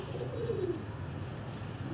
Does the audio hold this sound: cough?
no